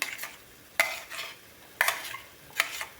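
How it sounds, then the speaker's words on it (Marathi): Masala paste roasting in oil for mushroom masala, a soft sizzle broken by three sharp spatula scrapes against the pan, fairly quiet and close. "आपण हे वाटण आहे आपलं ते व्यवस्थित तेल सुटेपर्यंत आपल्याला हे भाजायचं"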